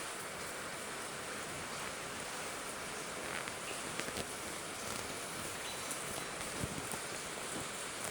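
Rain falls steadily as a dense, even hiss of drops on surfaces, with occasional nearer pattering hits standing out over the constant wash, and no voices.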